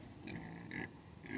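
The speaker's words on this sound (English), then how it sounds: "Listen to him. Oink, oink. Listen to that oinking." Kunekune pig on a Long Island farm oinking, with a few short grunts close by at a moderate level.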